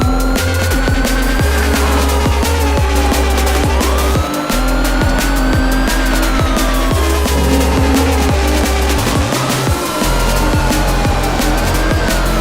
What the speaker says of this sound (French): Les sirènes hurlent